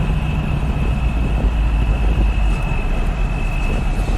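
A tractor engine runs steadily in cold weather as the clutch is let out, a continuous low rumble with a faint steady whine above it, with no talk.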